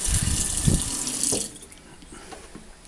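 Tap water runs from a kitchen faucet into a cup, a close, steady hiss and splash for about a second and a half before it shuts off, leaving quiet room noise.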